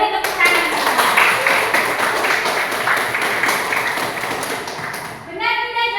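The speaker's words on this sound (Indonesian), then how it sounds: "Oke, beri tepuk tangan." Students in a classroom clap together in a lively burst of applause for about five seconds, then it fades as a voice comes in.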